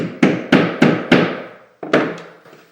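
Wooden Kreg plugs are hammered into pocket screw holes in a window seat build, with six sharp, ringing blows in quick succession, each decaying slowly, and a short pause before the last two strikes, close and loud.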